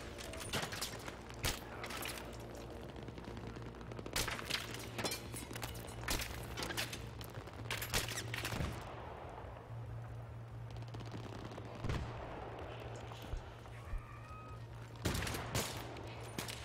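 Rapid bursts of gunfire in the video game Battlefield 3, single shots and automatic volleys, recurring throughout against a steady low hum, with occasional footsteps.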